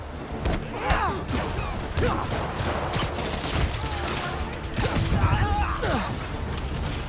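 Rocket barrages and explosions in the video game Marvel's Spider-Man Remastered, a dense run of booms, thuds and whooshes with mechanical clanks, and a short pained shout partway through.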